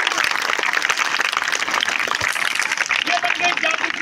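Dense audience applause at a magic show: a continuous wash of clapping from a crowd, fairly loud and steady, with voices heard over it.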